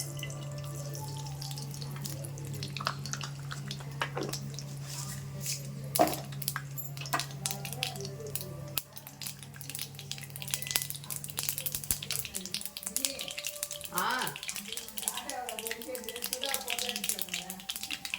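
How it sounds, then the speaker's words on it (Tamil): Mustard seeds splutter and crackle in hot oil while egg gravy is being cooked, making scattered sharp pops and sizzles over a steady hum, with a voice talking intermittently. "இப்போ எண்ணெய் நல்லா காஞ்சிச்சு இந்த ஸ்டேஜுக்கு வந்து நம்ம கடுகு சேர்த்துருவோம்"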